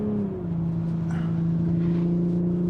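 A 2021 Toyota Supra's engine hums steadily while driving, its tone dropping sharply at one gear shift before settling into an even drone.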